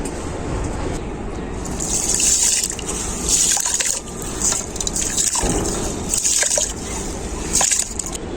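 Soaked Gobindobhog rice is tipped into a pot of hot water, giving bursts of sloshing, trickling and hissing in uneven waves, close and moderately loud, with faint background noise.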